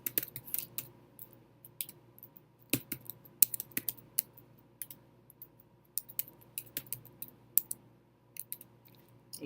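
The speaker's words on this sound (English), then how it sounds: "and then you start typing in the names of whoever you want to invite." Irregular bursts of computer keyboard typing, close and crisp, with quick clusters of key clicks separated by short pauses over a quiet background hum.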